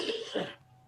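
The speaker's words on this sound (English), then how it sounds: "that's why I'm coughing" A person with a cold gives a single short, husky cough at close range, then goes quiet.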